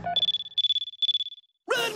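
Cartoon telephone ringing as a sound effect: three bursts of rapid electronic trilling, each about a third of a second, close and loud, followed by a short voice.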